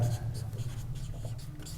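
Pen writing on paper or a board during a maths lesson, with steady scratchy strokes close by under a low hum, no talk in the gap.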